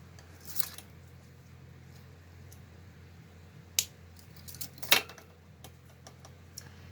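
Scissors snip crochet yarn to trim a tail while finishing a loofah bath sponge, two or three short, crisp cuts close by over a quiet room.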